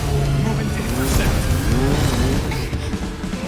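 Motorcycle engine drones with rising and falling revs and some tire noise during a Final Fantasy VII Remake chase, loud and continuous, with voices talking over it.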